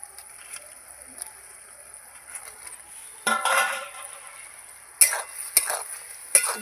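Jackfruit manchurian pieces are stirred through a simmering sauce in a pan, giving soft scraping and clinking spoon strokes over a faint low bubble, with a few sharper knocks near the end.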